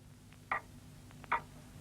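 A clock ticks twice, sharp and close, about eight-tenths of a second apart, with fainter clicks between over a quiet background.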